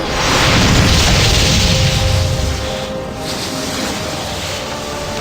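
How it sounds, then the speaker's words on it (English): A deep rumbling explosion swells up in the Icewind Dale video game, a broad roaring boom with a whooshing tail that slowly thins and fades, loud and without speech. "an explosion of white light engulfed the battlefield"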